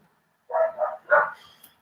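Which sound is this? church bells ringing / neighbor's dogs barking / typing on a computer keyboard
neighbor's dogs barking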